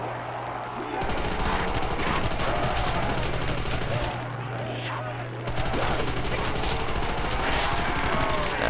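Rapid, dense PPSH submachine gun fire in a Call of Duty zombie mod: two long sustained bursts separated by a brief pause, loud and continuous over a steady low game hum, with someone talking underneath.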